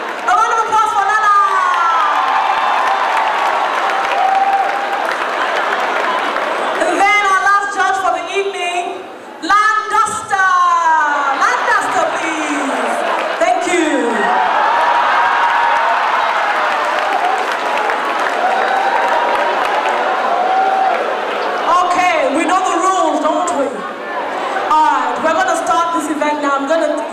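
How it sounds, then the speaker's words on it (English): Crowd applause and cheering at a staged Idol-style talent show comedy skit, a continuous loud roar of clapping and whoops lasting throughout, with shouting voices mixed in. "A round of applause for Lala!"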